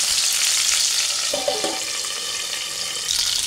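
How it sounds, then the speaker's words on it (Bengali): Prawns fry in hot oil in a Bengali home kitchen and give off a steady bright sizzle, with a few soft clinks as they are turned partway through. "একটু নরম নরম চিংড়ি মাছ ভাজা হয়"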